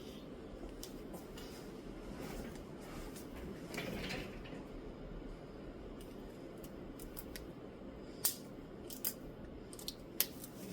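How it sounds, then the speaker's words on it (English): Kapton tape is handled and cut during an iPad Pro 11 first-generation repair on a workbench, with faint rustling under a low steady hum, then a few sharp scissor-like snips near the end. "I'm gonna grab some tape just to kind of hold it in place"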